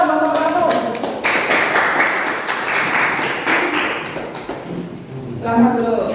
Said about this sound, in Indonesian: Tepuk tangan dong kelompok 1.